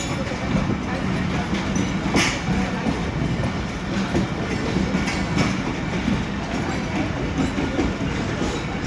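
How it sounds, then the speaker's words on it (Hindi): A train pulls into Raiwind railway station, its steady rumble and clickety-clack of wheels filling the platform for the whole stretch, loud and close, with brief brighter squeals and clanks now and then. "ये ट्रेन आई है और जो कि अभी कुछ टाइम के बाद यहाँ से रुखसत हो जाएगी।"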